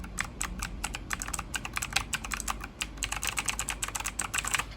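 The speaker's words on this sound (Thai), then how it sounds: "ซึ่งตัวนี้เป็นกรีนสวิตนะฮะก็คล้าย ๆบลูสวิตนี่แหละแต่อาจจะเสียงเบากว่านะครับ" Rapid, crisp clicking of an EGA Type K4 mechanical keyboard with green switches being typed in a steady stream, close and bright, with no voices.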